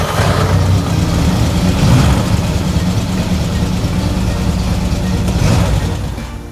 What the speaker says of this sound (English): the pull rod engaged the pinion gear of the starter and at the same time connected the contacts of starter, which began to rotate